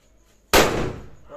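A single leftover Diwali firecracker goes off with one loud, sudden bang outdoors, its sharp burst decaying into a crackling tail over about a second, with only faint background noise beforehand.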